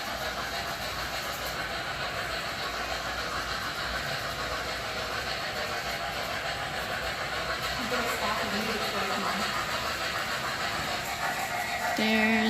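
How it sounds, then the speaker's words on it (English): A train crosses the Kinzua Bridge with a steady rumbling roar heard from a distance, continuous for the whole stretch, while people talk faintly nearby. "There's the train again."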